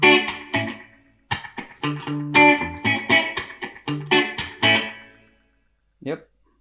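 Electric guitar played through a delay pedal with raised regeneration, a run of clipped, distorted phrases ringing out with repeating echo tails, then a lingering fade and a short isolated twang near the end.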